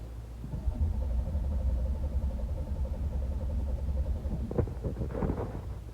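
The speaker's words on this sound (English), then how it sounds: "The motor turns with the starter, but it doesn't start." A car engine turned over by its starter without firing, a steady low churning drone that runs on for several seconds with no catch, ending in a few sharper clunks.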